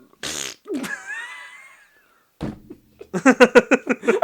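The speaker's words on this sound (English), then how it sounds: "wasn't expecting that fart" A loud, close fart comes first, followed by a sneeze-like burst and then a rapid series of laughing bursts.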